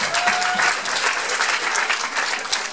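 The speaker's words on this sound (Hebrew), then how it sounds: "מחיאות כפיים לוותיקות" An audience claps steadily through a graduates' conference at Hadassah Academic College, a dense, continuous wash of applause filling the room with no voices on top.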